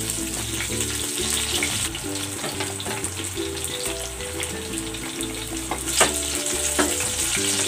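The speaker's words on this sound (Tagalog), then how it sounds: "Ipiprito ko muna itong talong." Eggplant fries in hot cooking oil, a loud, dense, continuous sizzle with spattering crackles and occasional utensil clinks, steady across several seconds with a sharper pop near the end.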